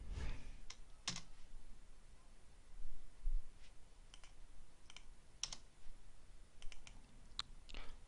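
Keys clicking on a computer keyboard while typing commands into an Ubuntu terminal, scattered sharp taps with a few firmer presses such as an enter key, faint and close in a quiet room.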